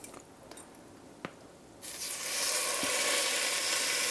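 Chicken pieces laid fat side down in a hot frying pan, starting with a few faint drips and taps, then a loud, steady hiss of sizzling fat that fills the rest of the clip.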